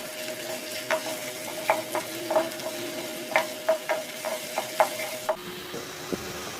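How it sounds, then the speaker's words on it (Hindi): Steady sizzling of garlic ginger paste frying in a pan, with a metal spoon scraping and clicking against it in irregular strokes. "अब हम इसमें डालेंगे 1 अदद हल्के लहसुन अदरक पेस्ट और इसे 1 मिनट तक भूनेंगे"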